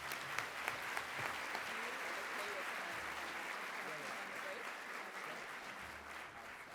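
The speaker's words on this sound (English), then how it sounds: "Can I get another round of applause for Dr. Gatcliffe?" An audience at a healthcare conference in Grand Cayman applauds Dr. Troy Gatcliffe, a steady, fairly faint wash of clapping that lasts throughout with a few sharper claps near the start.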